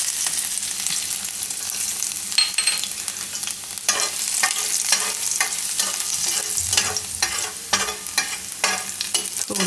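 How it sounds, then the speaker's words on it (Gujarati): Pieces of garlic dropped into hot oil over a low gas flame, a loud, close, continuous crackle and sizzle with frequent sharp pops and stirring scrapes, no talking. "તો હવે તેલ આપણું ગરમ થઈ ગયું. ગેસ ધીમો કરી દે. એમાં આપણે નાખશું આ લસણ."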